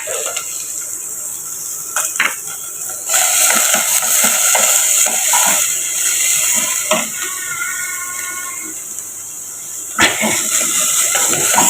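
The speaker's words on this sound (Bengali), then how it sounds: "মাংসটা একটু হালকা ভাজা ভাজা করবো" Chicken meat fries with chopped onion and green chilli in a pan, a steady bright sizzle that swells when stirred, broken by scattered clinks of a utensil against the pan.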